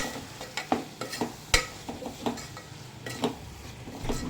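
Dry fish curry being stirred with garam masala in a pan over low flame: a run of close, sharp spoon-on-pan scrapes and knocks in uneven rhythm, with a soft sizzle underneath and no voices.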